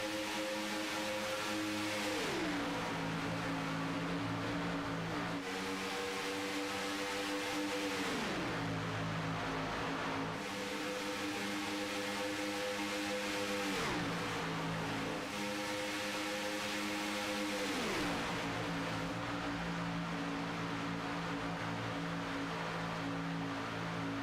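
Several race car engines roar continuously at close range on a superspeedway during a stock car race, their pitch dropping and rising in repeated waves as the pack passes and drafts.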